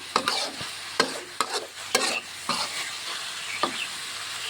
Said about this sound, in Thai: ผัดไปผัดมาแล้วก็เอาใบมะกรูดใส่ด้วย